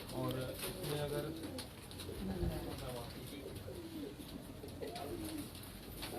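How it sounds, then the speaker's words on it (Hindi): Red jaaldar pigeons coo in a loft, soft throaty cooing calls close by under someone talking, with faint background noise throughout. "अपने लाल जालदार कबूतरों का शौक करवा रहे हैं।"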